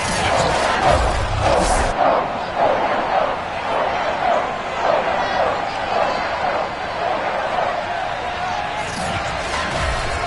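A sold-out stadium crowd roars and cheers steadily in the Madden 22 football video game before a Patriots versus Cleveland Browns matchup, with broadcast commentators talking over the din.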